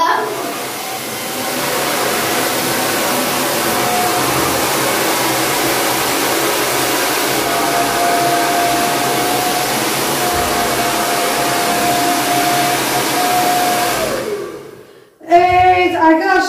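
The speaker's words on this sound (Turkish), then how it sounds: "Nemli saçta çünkü daha güzel, kolay fön çekiliyor." A hair dryer blows steadily and loudly on damp hair for about fourteen seconds, then cuts off, followed by a brief burst of voice.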